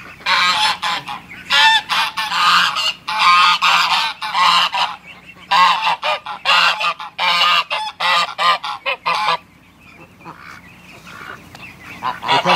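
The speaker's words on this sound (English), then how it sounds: "Oh, here comes the geese." A flock of geese honks loudly and repeatedly in bursts, with brief pauses between, close by and with no talking.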